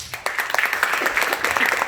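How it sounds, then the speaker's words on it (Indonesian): A group applauding together indoors, a brief burst of dense clapping with a few voices mixed in. "tepuk tangan dulu."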